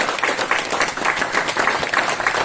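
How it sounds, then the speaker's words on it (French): An audience claps for parents at a church sermon, a dense wash of many hands applauding together, with steady rhythmic pulses through the whole stretch. "Est-ce que vous voulez applaudir les parents qui élèvent des enfants ?"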